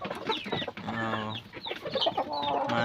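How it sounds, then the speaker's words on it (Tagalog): Chickens clucking close by among the peeping of newly hatched chicks, a steady busy chorus of warbling calls and short clucks with no talking. "May mga sisiw na uli."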